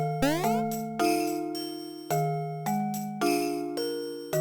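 Jingle Bells played in a minor key as game music from Mario & Luigi: Partners in Time, a bright chiming melody of struck bell-like notes in a steady rhythm, each tone ringing and decaying, clear and alone.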